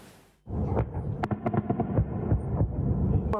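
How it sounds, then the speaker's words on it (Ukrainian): A sudden onset of deep, rumbling booms from loud explosions near midnight in Kryvyi Rih, with sharp cracks scattered through a sustained low roar. "Майже північ кривий ріг прокидається від гучних вибухів"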